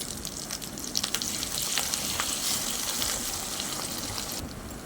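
Blended masala paste sizzles steadily in a hot pan while paneer kurma is cooked, a continuous close frying hiss with faint stirring scrapes and no talking.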